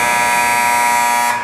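An arena horn at a youth U13AA ice hockey game ends the first period, a loud, steady, sustained tone that holds for most of a second and a half before cutting off near the end.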